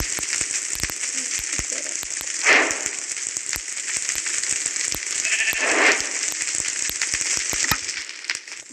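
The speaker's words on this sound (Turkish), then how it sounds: "Koyun var." Sheep bleating in a video game, two short bleats standing out over a steady hissy background noise, with faint clicks scattered throughout.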